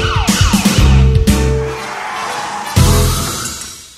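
A wailing siren effect rises and falls over a dense layered mix of sound effects for Transamerica radio jingles from 1990, loud and close, with a sudden shattering burst midway before fading toward the end.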